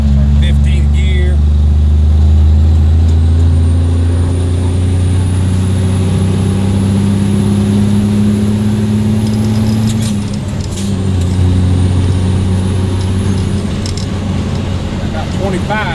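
An M923A1 military truck with an NTC 400 engine and a Holset HT3B turbo pulls steadily in fifteenth gear, a loud, continuous diesel drone with a rising turbo whistle, briefly dipping near the end and resuming.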